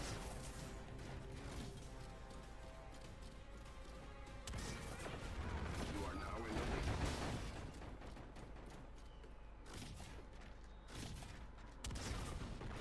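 Shotgun blasts during a team deathmatch in Call of Duty: Infinite Warfare, heavy booming shots mixed with crashes and a near-continuous wall of battle noise, some blasts standing out louder than others.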